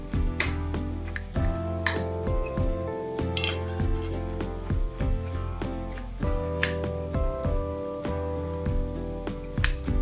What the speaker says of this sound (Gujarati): હવે રીંગણાને છરીની મદદથી મેશ કરી લેશું